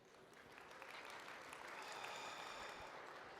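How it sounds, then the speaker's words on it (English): Audience applause fills a leadership summit hall in Calgary, a dense steady clapping from a large crowd, fairly distant and sustained for a few seconds. "Let me hear by a round of applause."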